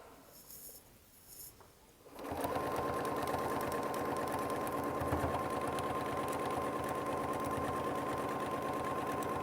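Sewing machine stitching with gray thread, starting abruptly after a quiet moment and then running steadily and loudly at an even, fast rhythm until the end.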